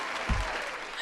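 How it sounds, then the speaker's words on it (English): A brief burst of audience applause, a dense wash of clapping lasting about a second. "Amplify your applause."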